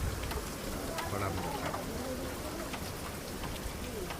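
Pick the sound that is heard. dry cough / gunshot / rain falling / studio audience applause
rain falling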